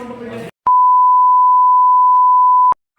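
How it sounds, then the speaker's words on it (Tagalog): A steady electronic alarm tone for an earthquake drill at a city government office in Caloocan City, holding one loud continuous pitch for about two seconds after a brief burst of speech, with faint talk returning at the end. "Nagsimula na ang alarm."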